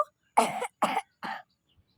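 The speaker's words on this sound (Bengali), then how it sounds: "কাশিটা এখনও থেকে গেছে" Three harsh, chesty coughs in quick succession from someone still recovering after a week of fever, close and fairly loud with short silent gaps between, no talking.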